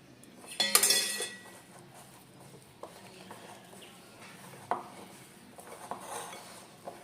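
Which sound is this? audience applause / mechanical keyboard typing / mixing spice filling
mixing spice filling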